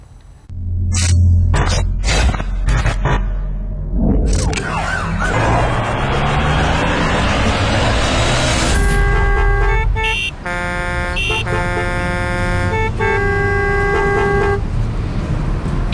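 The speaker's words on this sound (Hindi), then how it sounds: "चारों ओर मचने वाला है गाड़ियों का ऐसा ही शोर" Dense Delhi traffic roars close and loud, with car horns honking in short bursts and then a wailing emergency siren joined by a chorus of sustained horns.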